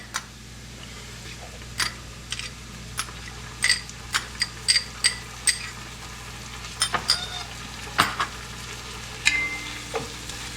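Garlic sizzling in a hot pan while wild boar pozole verde is cooked, a steady fry with frequent crisp pops and ticking crackles from stirring, close and unaccompanied by talk.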